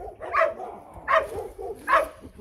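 Dogs barking at an animal shelter housing many dogs, three loud distinct barks at an even pace, each a short burst with a little whimpering between.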